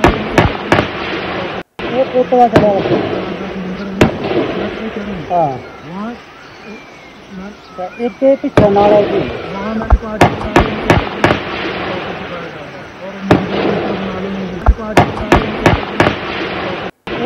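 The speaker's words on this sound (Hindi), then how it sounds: "ये कठुआ की तस्वीर है और ये गोलियों की आवाज है।" Gunfire during a terrorist attack in the Kathua forests of Jammu and Kashmir: sharp cracking shots in scattered bursts and single reports over a rough outdoor background, with a voice talking faintly in between.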